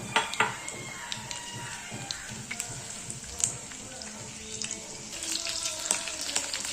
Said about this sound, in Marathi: नंतर मग हिरवी मिरची टाकायची. लसूण,